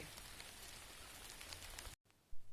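Gentle summer rain pattering steadily on surfaces, a soft continuous hiss of drops close by, briefly cutting out near the end before resuming.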